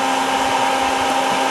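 A gentle vacuum pulls air through a long hose into a Dadant swarm box during bee removal, giving a steady, loud, continuous whooshing hum with a fixed tonal whine, no voices heard.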